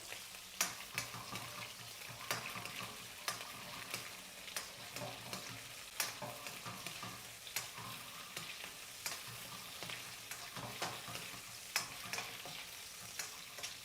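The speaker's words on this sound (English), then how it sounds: "So just cook your shrimp for like a minute or 2." Shrimp frying in a pan for a stir-fry chow mein, a soft steady sizzle punctuated by frequent light clicks and scrapes of stirring, with no talking.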